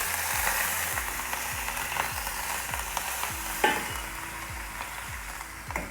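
Tempering in hot oil with mustard seeds, hing, chopped green chillies and curry leaves, a steady sizzle with regular scraping stirs and sharp crackles and pops rising over it.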